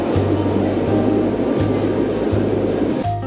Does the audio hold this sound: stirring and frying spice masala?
no